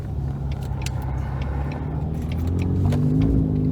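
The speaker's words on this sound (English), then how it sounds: "I'm gonna let the car warm up." A car engine idles as it warms up before a drive, a steady low rumble holding throughout with a slight rise toward the end and small metallic jingles over it, no talk. The car has a burble tune.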